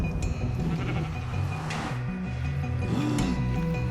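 Sheep bleat in Minecraft, a few wavering cries rising above a busy background of game noise and clatter, fairly close and moderately loud.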